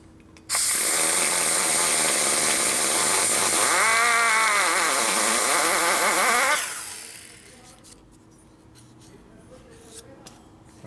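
A rotary grinder fitted with a coarse bit works a 1992 Harley 80ci Evo engine case, a loud close high-pitched whine running for about six seconds with pitch dipping and rising under load, then spinning down and stopping.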